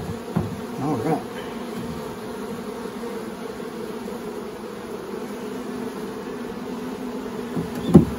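Honey bees buzz steadily and close during a nuc install into a long hive, a dense, continuous hum with a few louder swells from individual bees near the start and end.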